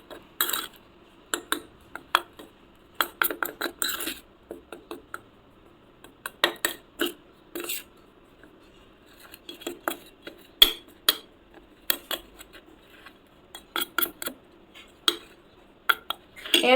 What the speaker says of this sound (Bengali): ভালো করে এরমভাবে মিক্স করবে, একদম ডাস্ট হয়ে যাবে পুরো।